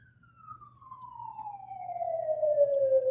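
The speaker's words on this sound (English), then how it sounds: "pause for siren." An emergency vehicle siren passes outside, its falling wail growing steadily louder from faint over a few seconds against a quiet background.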